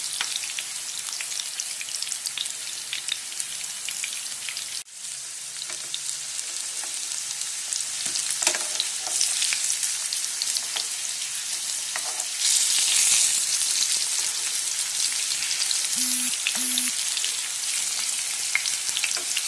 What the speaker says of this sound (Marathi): सुरणाची दुसरी बाजू शॅलो फ्राय करूया.